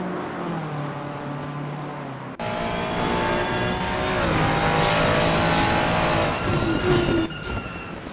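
A Ferrari race car in Assetto Corsa Competizione at Bathurst revs hard and spins, its engine note swelling abruptly louder partway through and holding a dense, shifting whine with pitch sweeps as the car loses grip.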